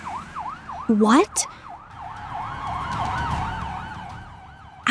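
Wailing emergency vehicle sirens rise and fall repeatedly at moderate distance, with a brief voice and a couple of sharp sounds over them early on, the siren continuing steadily to the end.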